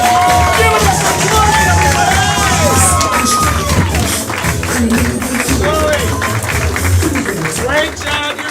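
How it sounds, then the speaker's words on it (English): A comedy club audience applauds and cheers for a comic in a dense, loud, steady wash of clapping and whoops that holds for several seconds before easing slightly. "Another round of applause for Flo, everyone"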